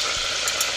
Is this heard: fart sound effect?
no